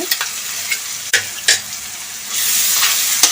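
Ginger, garlic, mint and coriander paste sizzles and fries in a pan for biryani, a steady hiss swelling louder toward the end, broken by a few sharp stirring clinks and scrapes, close up with no talking.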